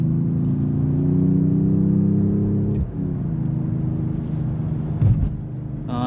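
A 2025 Mercedes-AMG E53 hybrid sings with a steady mid-pitched engine drone that rises gently, dips briefly at a gear change, then carries on, close and fairly loud with no talk over it.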